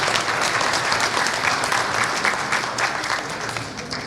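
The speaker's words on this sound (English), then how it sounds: "so please give them a round of applause." An audience at an alumni gala breaks into sustained applause, dense and loud clapping from many hands filling the room evenly before easing off slightly at the close.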